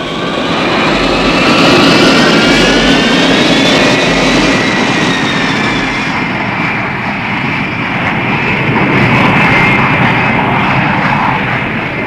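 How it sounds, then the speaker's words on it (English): A powered aircraft engine roars at full throttle as a sound effect in a radio drama scene, a loud, sustained, steady drone that swells slightly and holds for the whole stretch with no voices over it. "Take her up! Full throttle!"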